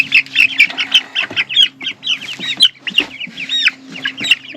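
Young pullet chickens cluck and chatter steadily in a new coop, a dense, close run of overlapping calls over a low steady hum.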